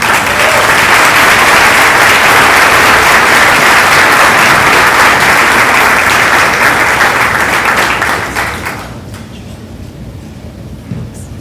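Sustained audience applause at a pregnancy care center banquet, loud and dense clapping filling the room for about eight seconds before quickly fading to quiet.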